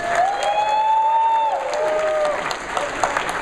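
An audience at a MAGFest 2019 voice-acting convention panel applauds in a brief, dense burst of clapping, with cheers and high whistles over it.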